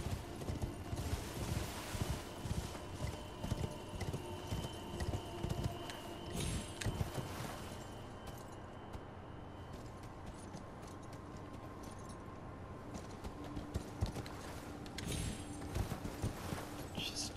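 Horse hooves clip-clop steadily in Elden Ring, a dense run of footfalls over the first half that settles into quieter movement with occasional louder steps later.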